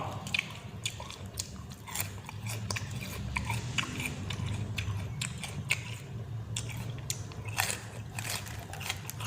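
Crunchy food being bitten and chewed close to the mic, with a steady run of sharp crackling crunches over a low background hum and no talk.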